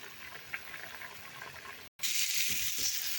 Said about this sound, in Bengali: আমি এখন জল দিয়ে দিলাম, কুমড়োগুলো সিদ্ধ হয়ে যাবে।